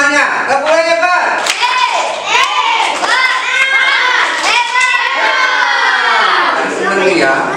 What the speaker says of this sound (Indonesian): Kasih tepuk hebat buat kalian semuanya. Tepuk hebat.